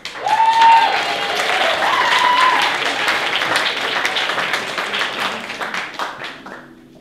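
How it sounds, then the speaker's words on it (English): Audience at a folk club in Rumney clapping for a performer, a dense wash of applause lasting several seconds before tapering off, with a brief tone and a few voices faintly underneath. "please put your hands together for Pete Hughes."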